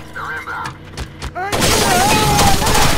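Gunfire in the video game Rainbow Six Vegas 2: a few sharp shots ring out before a loud burst of sustained automatic fire and explosions takes over, with game voices heard early on.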